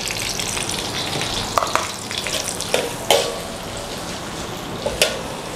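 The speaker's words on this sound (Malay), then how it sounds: "So, tumis je" Onion, ginger and garlic sautéing in a pan, a steady broadband sizzle with a few sharp clinks of stirring scattered throughout; close and moderately loud, with no talking.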